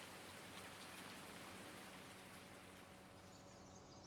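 Steady rain falls in a farming video game, a soft continuous hiss of drops on surfaces holding even and moderately loud throughout with no voices over it.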